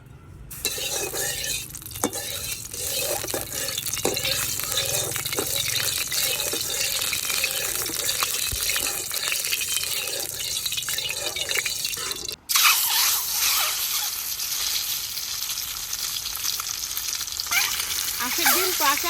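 Oil heats and sizzles in a wok while cooking an egg and potato curry, a continuous frying hiss with stirring scrapes and clinks, turning suddenly louder and brighter partway through as more goes into the pan.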